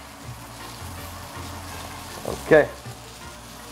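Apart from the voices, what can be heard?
peppers and onion sizzling on a grill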